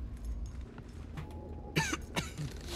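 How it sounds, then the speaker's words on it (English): A cough in the game Redfall, two short rough bursts close together late in the clip over low game ambience. "I coughed again."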